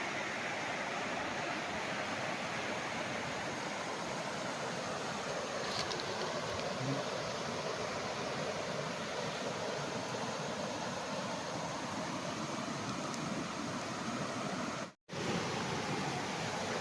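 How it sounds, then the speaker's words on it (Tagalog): A river flows along the boundary of a rural farm lot in Cavinti, Laguna, a steady broadband rush of moving water that continues unbroken, with one momentary dropout near the end. "Ang ganda ng ilog oh."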